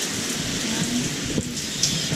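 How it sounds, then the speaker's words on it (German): Rain falling outside a hotel room in Kota Kinabalu, Borneo, a steady close hiss of drops on surfaces with a couple of faint knocks, no talking over it. "Es regnet, guck mal."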